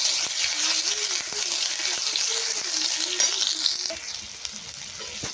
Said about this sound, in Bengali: এই যে দেখো টমেটোটা ভাজা হয়ে গেছে।